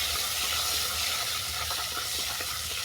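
Shrimp frying in oil in a pan after being mixed with salt and turmeric, a dense continuous sizzle with small crackles, close and fairly loud, no talking.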